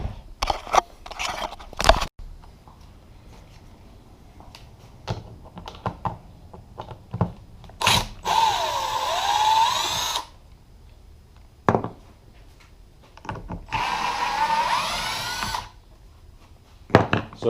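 A power drill backing out screws from a boat hatch during glass replacement, two close whirring bursts of about two seconds each, separated by clicks, taps and handling noises.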